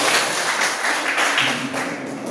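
Audience applause breaks out at a coding demonstration event, a steady dense wash of many hands clapping at close range, loud and sustained for a couple of seconds with no voices over it.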